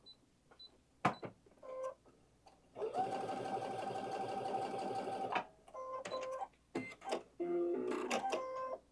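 Baby Lock Victory sewing machine stitching a square patch, its motor buzzing in a steady run of rapid needle strokes with short bursts and pauses for turning corners and reversing, close and fairly loud.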